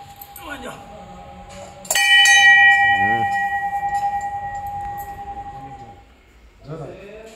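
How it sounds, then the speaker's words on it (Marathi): One close strike of a temple bell rings out and slowly fades with a shimmering hum, and voices speak before and after it. "घंटा वाजो घंटा वाजो।"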